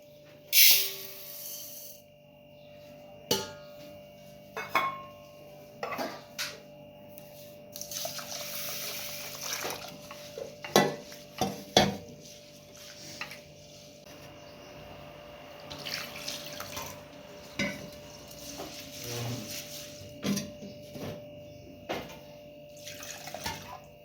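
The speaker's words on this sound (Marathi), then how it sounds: "ते आपण स्वच्छ पाण्याने दोन वेळेस धुवून घ्यायचे" Ration rice washed twice in clean water: water splashes and swishes in a basin in repeated bursts, with running water and soft clinks between the sloshes.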